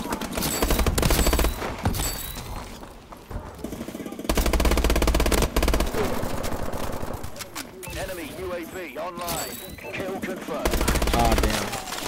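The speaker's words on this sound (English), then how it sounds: "Who the hell's shooting at me?" Rapid bursts of automatic gunfire in the Call of Duty Advanced Warfare multiplayer game, several loud rattling volleys broken by short pauses and layered over game effects.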